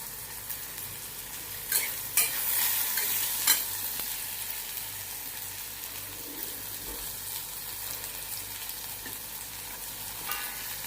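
Okra stir-fries in a pan with green chilli, a soft steady sizzle broken by several clattering spoon stirs early on and a few later scrapes. No one speaks.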